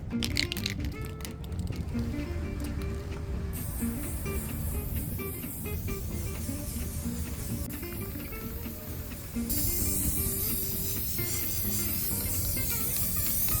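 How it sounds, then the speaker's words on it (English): Spray paint being sprayed onto blinds, a steady, continuous hiss running throughout, broadband and fairly even, with slight shifts in tone but no pauses or voices. "I will spray them black"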